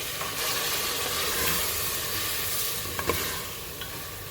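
Chicken frying in a pan after half a cup of water is added, a soft continuous sizzle and hiss with a few faint scrapes of stirring, low and close.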